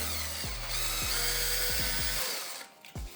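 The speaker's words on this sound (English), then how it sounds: "I'm gonna hold this together, and then I'm gonna drill the holes" A power drill bores holes through a part for an RC VTOL plane, whining steadily at high speed with several short pitch dips as the bit bites, then spinning down and stopping near the end.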